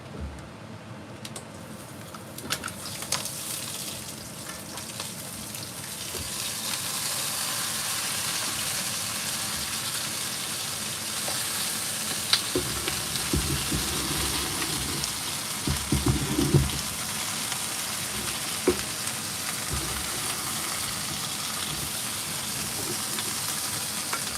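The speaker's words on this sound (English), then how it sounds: "So the frying is just to get a gentle sear on the surfaces" Lobster sears in a hot frying pan with steady sizzling and crackling throughout, with occasional soft bumps and clinks, and no one speaking.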